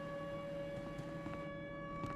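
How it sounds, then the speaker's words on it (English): Siren in the video game Misery wailing in a steady, sustained tone with a rich set of harmonics. It sounds fairly faint and distant, and no one talks over it. "the siren's hitting"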